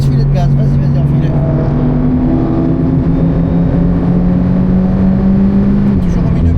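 A race car engine held on light, steady throttle at Spa-Francorchamps circuit, a loud continuous drone with a slowly shifting pitch and no big revs, heard from close by under voices.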